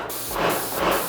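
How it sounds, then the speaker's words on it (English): Water test-sprayed into a bucket from a Wagner Control 150M airless paint sprayer, a steady close hiss of broadband spray lasting about a second with slight surges. "Release the safety catch and give it a test spray into a bucket"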